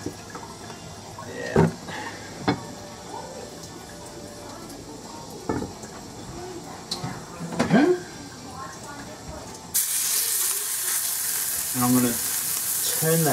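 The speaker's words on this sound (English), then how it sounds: "And now I'm gonna fry up the sausage patties." Sausage patties fry in a little oil in a pan with a steady close sizzle, broken by occasional clinks and bumps, while a person talks over it; the sizzle swells louder and brighter near the end.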